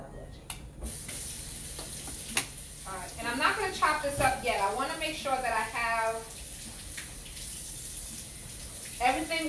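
Tap water runs over fresh romanesco being rinsed in a home kitchen, a light splashing hiss with clattering handling noises, while a person talks over it.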